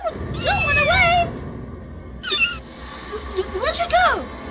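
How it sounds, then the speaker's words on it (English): A cat meows in a Doctor Who audio drama: a long, wavering call first, then a short mew, and a final rising and falling cry, all over a quiet background. "What's the cat doing in here?"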